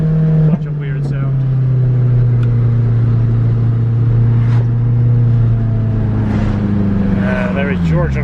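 A Honda Civic EG hatchback engine drones loudly and steadily from close by as the car drives on a test run, its pitch holding fairly constant and easing off near the end.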